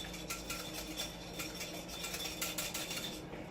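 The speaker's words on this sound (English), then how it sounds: "And we're going to whisk this together first." Vinegar and salt being whisked in a metal bowl, a fast run of light clinks and scrapes against the metal at a steady rhythm.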